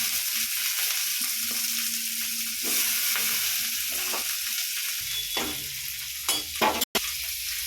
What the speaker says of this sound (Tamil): கடுகு போட்டேன். இந்த வெங்காயம் போடுறேன்.